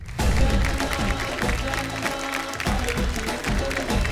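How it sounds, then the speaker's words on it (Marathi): Audience applause at a Marathi women's television program after a performance, a full continuous round of clapping that swells early and stays strong throughout, with no talking. "एकदा जोरदार टाळ्या"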